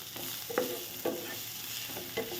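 Sliced onions with salt fry in a pan, a low steady sizzle broken by three distinct scraping stirs of a spoon spaced about half a second to a second apart, quiet and close with no voices.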